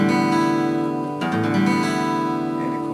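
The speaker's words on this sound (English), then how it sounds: "if the guitar is tuned in standard tuning, it should sound something like this" An acoustic guitar in standard tuning with its open strings ringing; a sustained strummed chord rings out, then a second strum lands halfway through and keeps ringing, played close and alone.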